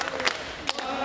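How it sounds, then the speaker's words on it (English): Mexican volunteers visiting Taipei Tzu Chi Hospital cheer in a short burst, with a group of voices rising together twice in quick succession over a crowd murmur. "Mexico volunteers are cheering to express their joy coming to the Taipei Tzu Chi Hospital"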